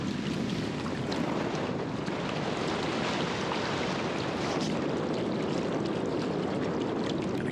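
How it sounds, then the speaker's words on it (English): Strong October wind rushes over a lake in Killarney during a solo canoe trip, a constant broad roar with waves washing beneath it and wind buffeting the microphone, no voices. "I don't know if the wind is going to allow me to get across David Lake today."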